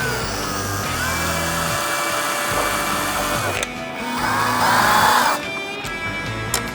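A power drill or driver backs out small fairing air deflector screws, whining steadily in several runs with brief pauses between them, close and clear.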